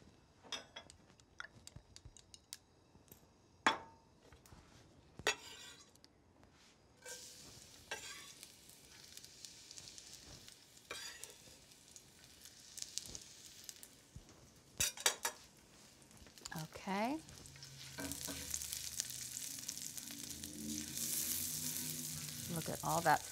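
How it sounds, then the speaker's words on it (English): Garlic sautés in olive oil in a pan with a quiet sizzle. Sharp utensil clicks and taps cut in throughout, and the frying grows louder and fuller toward the end. "let's get some more olive oil in our pan so we can saute the garlic"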